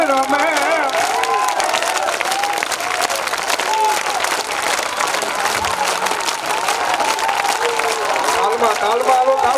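An audience claps along in steady rhythm at a Meldi Ma mandvi devotional performance, dense continuous clapping mixed with singing and crowd voices, fairly loud and close.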